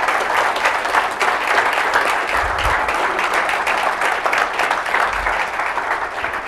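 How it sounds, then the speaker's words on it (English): Steady audience applause at a 9/11 truth symposium, a full room clapping continuously at a fairly even level throughout, with a couple of low thumps underneath. "Give this man an applause over here."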